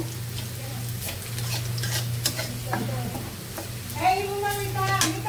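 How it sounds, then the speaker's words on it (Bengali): Red spinach fries in oil with garlic and onion, giving a soft, steady sizzle under a continuous low hum, with occasional stirring clicks and a voice briefly heard near the end. "শুধু রসুন পেঁয়াজ দিয়ে তেলে দিচ্ছি, একবার তেলে দিয়ে দেব।"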